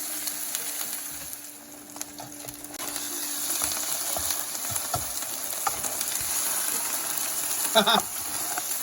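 Chorizo and eggs sizzle steadily on a Ninja Foodi griddle, with a soft continuous frying hiss, occasional scrapes and clicks from stirring, and a brief louder clatter near the end.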